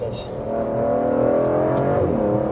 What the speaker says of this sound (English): I've never really felt anything quite like how this car accelerates.